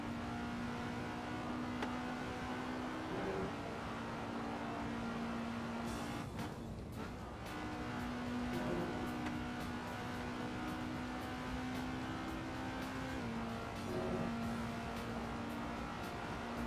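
A race car engine in the Assetto Corsa racing game drones steadily with a sustained tonal hum, its pitch shifting between gears and briefly dipping mid-clip, running continuously and fairly quietly with no talk.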